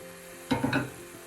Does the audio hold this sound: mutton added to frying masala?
yes